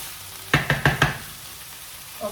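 A utensil knocks and scrapes four times in quick succession in a pan of broccoli and canned tuna being stir-fried, with a faint sizzle underneath and a soft clink at the end.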